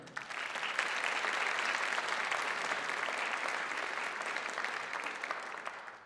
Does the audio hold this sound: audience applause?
yes